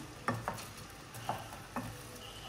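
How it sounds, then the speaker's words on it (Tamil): Fried mushrooms and cabbage tossed into sauce in a pan for a roadside kalan dish, heard as a soft low sizzle broken by four distinct stirring clatters of a spoon against the pan. "இந்த டைமில் நம்ம ஃப்ரை பண்ணி வச்சுருக்கோம்ல இந்த காளானையும் முட்டைக்கோசையும் உள்ள தூக்கி போட்டுருவோம்."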